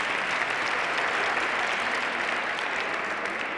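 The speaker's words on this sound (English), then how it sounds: "So let's give those 2 women a round of applause." An audience gives dense, sustained applause at a public safety awards salute honoring women. The clapping stays loud and even with no pauses.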